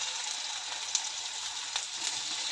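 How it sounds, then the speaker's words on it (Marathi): Okra sizzles in hot oil in a wok over a low gas flame, cooked village-style. A steady, close frying hiss carries a few soft pops and spatters and no talk. "भेंडी भाजण्यासाठी मी गॅसवर कढई गरम करायला ठेवलेलं आहे. त्यामध्ये तेल घालते. त्यानंतर भेंडी घालते."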